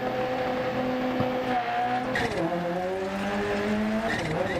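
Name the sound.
rally car engine revving and sliding in video game Dirt Rally 2.0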